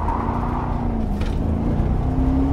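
A 2007 Corvette Z06 prepped for A-Street autocross runs steadily on track, its engine note droning close and loud with a rising harmonic line toward the end, no talk over it.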